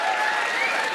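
A comedy audience breaks into applause, a dense, even burst of clapping from a large crowd, loud and continuous for about a second.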